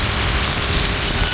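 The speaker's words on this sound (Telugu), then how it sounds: "ఇప్పుడైతే ఫుల్గా వర్షం పడుతుందండి." Heavy rain falls in a constant close hiss for a brief moment, with no voices.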